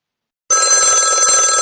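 A Konnekt videophone ringtone imitating a telephone, a steady loud electronic bell-like trill that starts abruptly after a moment of silence and continues unbroken.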